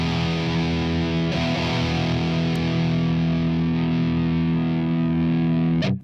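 Electric guitar played through an iRig HD 2 interface into Amplitube's metal amp simulation on iOS, a heavily distorted sustained chord ringing steadily for several seconds before being cut off, no talking.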